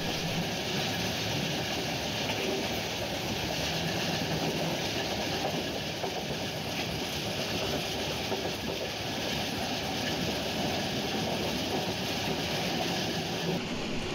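Burimari Express broad-gauge train rolling along at very low speed, a continuous rumbling clatter of wheels and carriages heard steadily from on board with no pauses.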